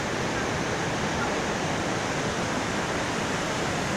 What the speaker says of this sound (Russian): Вот там вода течет.